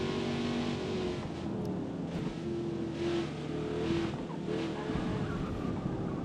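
A video-game car, a Boss 290 fitted with a 5.4 three-valve Barra engine, holds a steady droning engine note with slight rises in revs and no voices.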